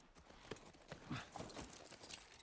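Horse hooves clip-clop in steady, close strides in The Last of Us Remake video game, moderately loud with no talk over them.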